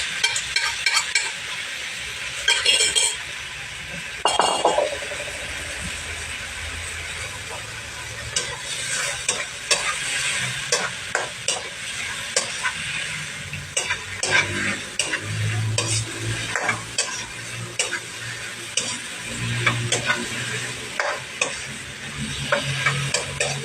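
Egg stir-fried with bitter gourd (ampalaya) in a hot pan, a steady sizzle with repeated scraping and stirring of a utensil against the pan throughout.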